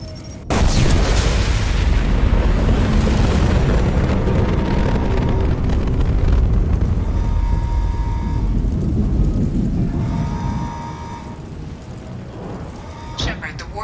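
A loud explosion in the video game Mass Effect 2 opens with a sharp blast, then a long, heavy rumble that slowly fades, with tonal game sounds layered on top.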